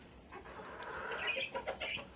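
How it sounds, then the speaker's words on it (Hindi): Several chickens cluck softly and irregularly at close range while eating fine feed, with scattered pecking and shuffling sounds in the background. "मुर्गियाँ बहुत शौक से खाती हैं"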